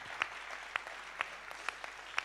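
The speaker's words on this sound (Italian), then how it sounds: "il nostro applauso va a loro soprattutto" A few scattered, separate handclaps ring out at the Panettone d'Oro civic virtue award ceremony, about five or six sharp claps spaced roughly half a second apart over quiet room tone rather than full applause.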